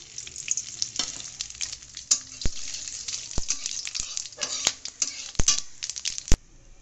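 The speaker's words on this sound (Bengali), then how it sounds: "ওই তেলে এবার আমি ফোড়নগুলো দিয়ে দেবো: তেজপাতা, ধনে, জিরে, লং" Whole spices, bay leaf, coriander, cumin and cloves, crackle and sizzle in hot oil, with sharp spatula clinks and scrapes breaking through a steady close frying hiss.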